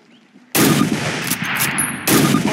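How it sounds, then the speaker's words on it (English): Rifle shots from a Springfield rifle in a WWII shooting game: after a quiet start, two loud, close gunshots ring out about a second and a half apart, each with a long reverberant tail. "Now fire 2 rounds at your target while aiming down your sight."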